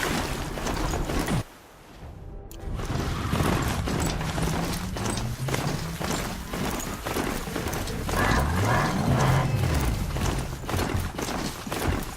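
Alerted robotic machines in the video game Horizon Zero Dawn make clattering mechanical steps and clanks, with sweeping whirring tones and a brief drop to near silence early on, at moderate level.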